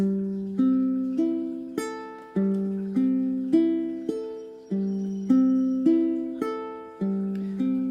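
Ukulele strings fingerpicked one note at a time in an even, steady pattern, each pluck clear and decaying, played alone up close.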